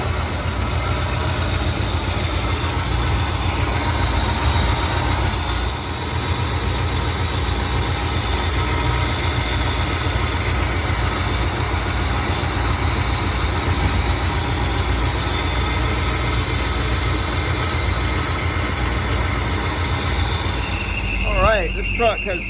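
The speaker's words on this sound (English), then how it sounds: "This truck has really come around, although it sounds like crap right now. It's running really good. I've got a belt squealing." An old square-body Chevy truck engine runs at a loud, steady idle with a squealing belt, a thin high whine riding over the rough, constant rumble from start to finish.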